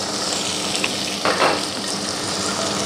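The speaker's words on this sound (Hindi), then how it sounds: "इसको थोड़ी देर के लिए सौते करेंगे" Chopped garlic, onion, green chilli and tomato sauté in a hot pan for chicken Manchurian, a loud continuous sizzle with a brief scraping stir partway through.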